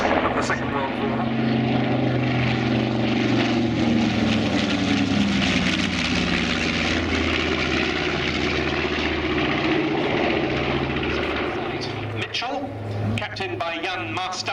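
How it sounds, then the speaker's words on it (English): North American B-25 Mitchell medium bomber flying past at an airshow, a loud, sustained piston-engine and propeller drone that holds steady before fading slightly, with a commentator talking over it. "here's the B-25, one of the outstanding medium bombers of the Second World War"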